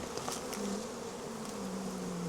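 Honey bees buzzing steadily around an open beehive fitted with Hoffman frames, a continuous close hum with a few louder passes near the ear, no talk.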